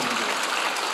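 A church congregation claps during a Sunday worship service, a dense, loud, continuous burst of applause filling the whole moment.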